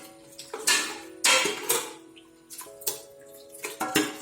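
A pressure cooker lid is handled and opened after mutton biryani has cooked through several whistles, giving repeated close metallic clanks and scrapes with a wet, watery hiss running underneath.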